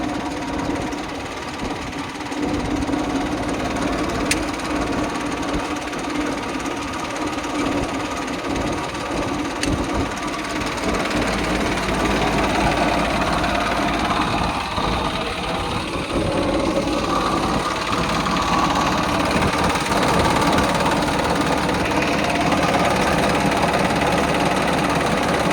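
A New Holland 3230 tractor engine idles steadily up close, a continuous mid-pitched diesel chug with faint mechanical rattle and no voices.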